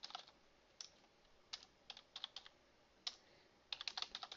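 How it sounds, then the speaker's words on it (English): Close computer keyboard typing in short irregular bursts of crisp key clicks separated by brief pauses, quiet and alone. "First you'll type a name"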